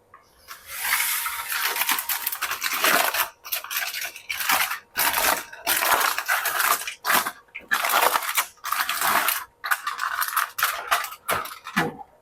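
A baked raisin loaf is sawn open with a knife, giving repeated rasping, crunchy strokes of the blade through the crust in bursts with short pauses, close and fairly loud, no talking.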